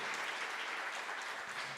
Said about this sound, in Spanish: Dele el aplauso a la palabra del Señor, al Señor, si le quiere dar